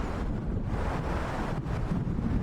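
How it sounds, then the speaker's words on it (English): Steady wind and rolling waves on Cauldron Lake in Alan Wake form a dense, unbroken rush of surf and gusting air, fairly loud and close, with no voices. "Now there was nothing but waves"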